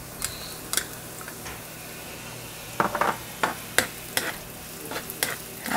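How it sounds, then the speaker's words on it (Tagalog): Garlic dropped into a hot pan after onions for an empanada filling, giving a steady background sizzle broken by sharp stirring clacks and taps of a utensil against the pan, no talking. "Pwede na nating ilagay ang ating bawang."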